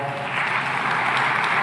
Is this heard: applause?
yes